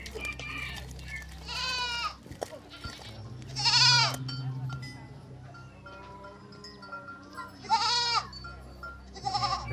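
Goats bleat in several loud, wavering calls spaced through a rural scene, with fainter animal sounds and a soft clink between them, and brief human voices in the background.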